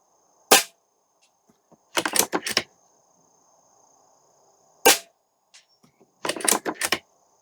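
A Stoeger XM1 Scout airgun fires two sharp, close cracks several seconds apart, each followed a moment later by a short cluster of rattling metallic impacts, with quiet gaps between.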